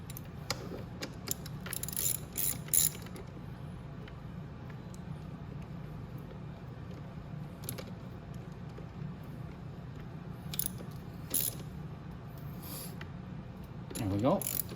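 A ratchet turns in short bursts of quick clicking while a 14 mm fork bolt is tightened on a Venom Roma 50cc scooter, quiet and close, with brief pauses between strokes and faint background noise.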